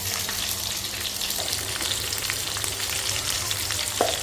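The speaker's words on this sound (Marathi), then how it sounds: "आणि आपली जिरा मोहरी मस्त तडतडते इथे।" Cumin and mustard seeds crackling in hot oil for a tempering, a dense steady sizzle with scattered sharp pops, close and continuous.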